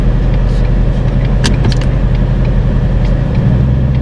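A 2018 Ford Mustang GT with a 10-speed and resonator delete rumbles loudly and steadily up close, deep and throaty, with a few brief mechanical clicks partway through.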